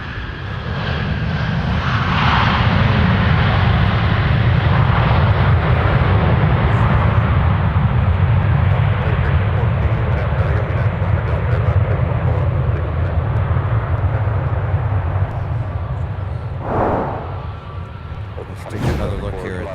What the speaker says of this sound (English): Right now we're looking at Delta Airlines Flight 2274 coming in nonstop from Phoenix.